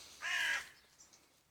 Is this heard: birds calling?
yes